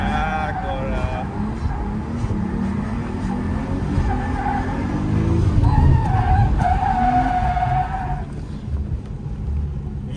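A Nissan Skyline R34 drifts at Fuji Speedway with loud, sustained tire skidding and engine drone that surges midway and then fades. Voices talk faintly underneath.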